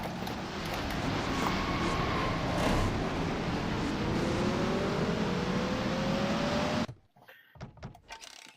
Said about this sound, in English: Kyle Matthews having a hard time getting his car to start back up.